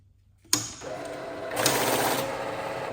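A NanoCash 952A banknote counter starts up with a sharp click and then whirs, feeding notes in a steady, close mechanical rush that swells partway through and carries on to the end.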